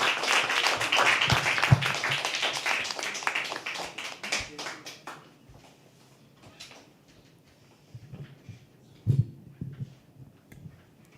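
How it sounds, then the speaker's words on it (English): An open-mic poetry audience in a small room gives a burst of dense applause that thins out after about four seconds, followed by scattered isolated claps and a few knocks in the quiet that follows. "Keep clapping"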